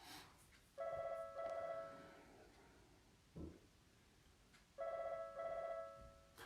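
A telephone rings indoors with two electronic double-burst rings a few seconds apart, clear and fairly loud, with a brief knock or handling sound between them and no talking.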